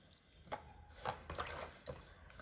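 Water drips and trickles from a glass jar of beet pickle in brine made with salt, sugar and vinegar, a few soft irregular splashes and drops, faint and close.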